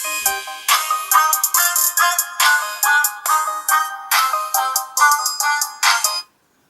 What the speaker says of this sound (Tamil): 70 வச்சுட்டு எகெயின் ஒரு சாங்கை நான் வந்து ப்ளே பண்ணுறேன்.